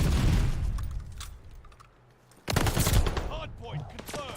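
Automatic gunfire in a Call of Duty Hardpoint match, rapid loud bursts that fade, a short lull, then a heavy renewed volley with booms, mixed with game voice announcements.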